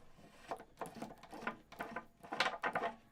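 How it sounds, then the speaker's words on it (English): Metal bolt being turned on a collapsible carbon travel guitar, giving a run of short, close creaks and clicks in uneven bursts, fairly quiet with no talking. "I turn this bolt here"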